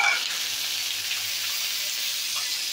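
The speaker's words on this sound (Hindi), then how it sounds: "ये हमने ऑयल गरम कर लिया है, इसमें ऑयल में हमने डाल दिया पहले पत्ते प्याज" Chopped spring onions frying in hot oil in a pan, giving a steady, even sizzle close by after a brief splash at the start, with no talking.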